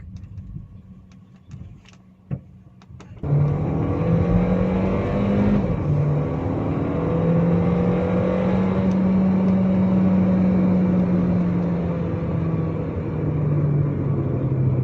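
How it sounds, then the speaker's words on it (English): A Volkswagen Lavida's engine hums steadily from inside the cabin while driving, a loud, continuous drone that rises and falls gently with a few faint clicks before it swells up. "Even the sound of the engine is good."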